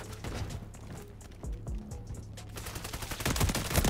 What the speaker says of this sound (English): it kills in 3 bullets, but like I'm so close to him. And I understand it's a shotgun